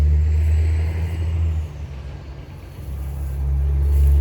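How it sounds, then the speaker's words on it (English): Heavy road traffic rumbling close by, a truck's low engine swelling and easing with a faint high hiss of its air brake, no voices. "Apologies for the traffic noise."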